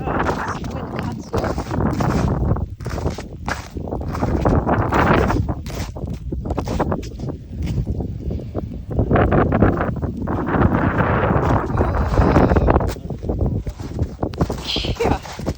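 Cold, gusty wind during an ice storm buffets the microphone outdoors in a steady, roaring rush that swells and dips, with what may be footsteps crunching underneath.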